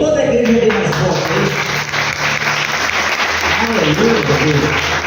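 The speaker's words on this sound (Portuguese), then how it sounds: "Se essas palmas para Jesus," A church congregation claps for Jesus in a sustained wash of applause, with a voice talking or singing faintly underneath the clapping throughout.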